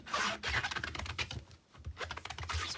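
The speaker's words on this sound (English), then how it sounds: "I'm just using my chamois to clean it" A chamois cloth rubs briskly over a big rubber stamp at a card-making table, giving close, dry, scratchy strokes in quick irregular bursts with a short pause partway through.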